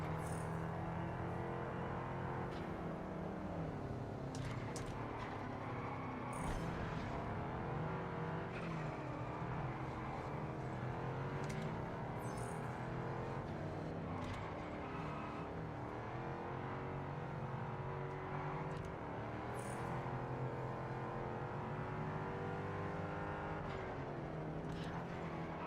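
A V8 car engine in the racing game Test Drive Unlimited Solar Crown, driven hard with a steady, loud drone that rises and falls through gear changes, with occasional tire squeal and skids throughout.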